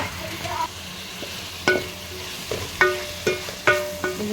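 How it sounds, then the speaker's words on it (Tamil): Onion, tomato and curry leaves sautéing in a pan, a soft oily sizzle under several sharp clinks and scrapes of a spoon stirring against the metal. "வெங்காயம் கொஞ்சம் கண்ணாடி வதக்கிட்டு வந்துச்சுன்னா போதும் வதக்கலாம்"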